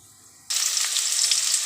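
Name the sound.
tempering seeds frying in oil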